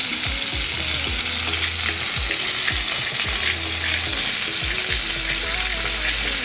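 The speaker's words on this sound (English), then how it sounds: "So while our meat patty is cooking" A meat patty sizzles and fries steadily in a pan, a loud, constant crackling hiss with some low scraping or stirring sounds underneath.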